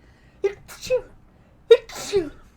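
A single sharp sneeze bursts out close by, preceded by a brief voice sound and followed by another short vocal burst.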